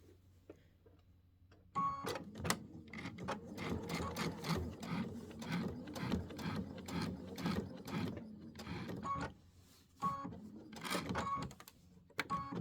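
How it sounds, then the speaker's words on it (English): A sewing machine stitches down the vein of a fabric flower on a wall hanging, starting after a quiet moment with a fast, steady mechanical rattle, then pausing briefly and resuming. "I'm just going to sew right down the vein."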